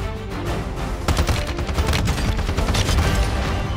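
Rapid bursts of gunfire crack out in the Warzone video game, dense overlapping shots in a loud continuous fusillade with no voices.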